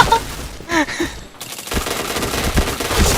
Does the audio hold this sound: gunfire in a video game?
yes